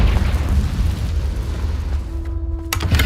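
A Confringo fire spell in Hogwarts Legacy bursts with a loud, sustained booming blast that rumbles through the whole moment, followed by a sharp chime-like tone and crackling near the end.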